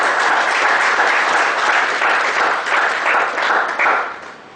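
Audience at a professional tax seminar giving the presenter a loud, sustained round of applause that tapers off after about four seconds.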